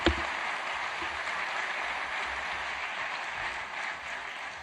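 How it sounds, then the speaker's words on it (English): An audience at a tech fair applauds steadily, many hands clapping together in a sustained, even burst from start to finish. "Please let's give another round of applause"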